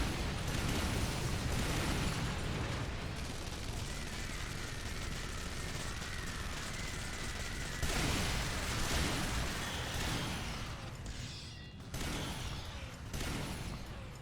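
Walker mech cannons firing in the video game EDF 5: a dense, continuous barrage of explosive bursts and booms layered with mechanical clanking, loud and sustained throughout.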